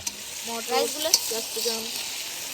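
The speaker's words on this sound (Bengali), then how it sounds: "তো আমাদের ফ্রাইড রাইস তৈরি করা শুরু হয়ে গেছে।" Fried rice with vegetables sizzles and crackles in hot ghee as it is stirred in a pan, with a few scraping stirs and a faint tonal sound over the frying.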